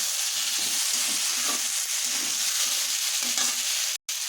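Chopped tomatoes and grated ginger frying in a pan for Bengali dum aloo give a steady hiss of sizzling, with soft stirring scrapes and a brief cut of silence near the end.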